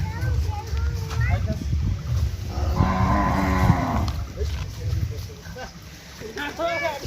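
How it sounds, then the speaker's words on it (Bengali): Cattle at a farm shed low loudly, one long moo in the middle and shorter calls near the end, amid background voices and outdoor noise. "আরও গরু আছে এই যে আমাদের গরুও চলে আসতেছে অলরেডি"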